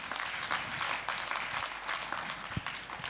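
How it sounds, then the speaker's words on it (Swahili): Applause from a church congregation during a PCEA covenant renewal service, a steady wash of many hands clapping at moderate distance, fairly even throughout with one brief louder thump. "Pia makofi."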